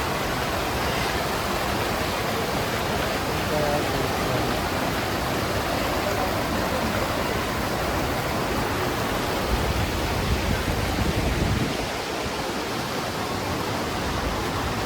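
Saitabat waterfall in Bursa, Turkey, a steady, loud roar of rushing water that fills the whole clip with constant broadband noise, with no talking.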